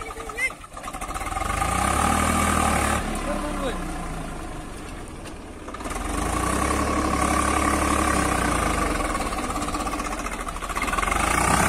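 A Swaraj 744 FE tractor's heavy diesel engine pulling a cultivator nearby, a rough, loud drone that dips briefly under load and then rises again, with voices heard over it.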